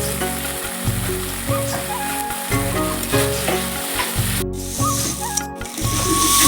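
Spice paste and pre-fried potatoes sizzle loudly in a pan, with a steady frying hiss and a regular rhythm of stirring scrapes repeating throughout, and no talking.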